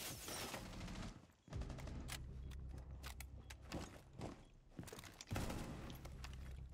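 Rapid bursts of video game gunfire, dense automatic fusillades broken by single sharp shots, loud and close with brief pauses between volleys and no talking.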